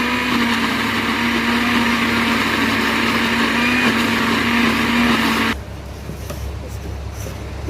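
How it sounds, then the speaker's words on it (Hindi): A mixer grinder whirs loudly and steadily while grinding vegetables into a paste for mutton kofta, a high motor hum that stops abruptly after about five seconds, leaving quieter kitchen noise. "ये गाइस अब हम इसको ग्राइंड कर लेंगे। इसको अच्छी तरीके से ग्राइंड करना है"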